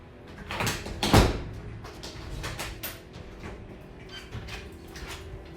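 A door at the entrance of a cigar lounge humidor opens with a few knocks and a sharp clunk, followed by lighter rattles and shuffles, close and moderately loud.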